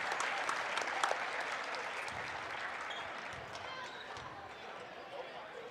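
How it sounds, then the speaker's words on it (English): A high-school basketball crowd in a gym applauds a player heading to the bench, steady broadband clapping that runs the whole time with a commentator talking over it. "He'll get a round of applause in McBain."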